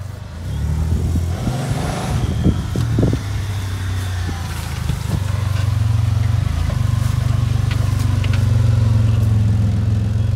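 A van engine idles and warms up, then settles into a steady, louder drone as it drives off, with a few faint knocks and clicks at the start and no clear talk.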